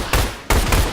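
Loud, close automatic gunfire from the dinosaur survival shooter video game Orion: Dino Horde, two or three sharp bursts in quick succession that fill the whole moment.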